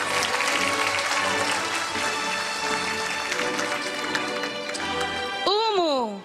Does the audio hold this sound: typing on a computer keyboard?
no